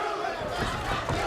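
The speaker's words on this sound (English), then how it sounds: "Crowd chanting Santa Cruz." Boxing arena crowd at a Leo Santa Cruz fight chanting his name, a dense, sustained roar of many voices with rhythmic swells, loud and continuous throughout.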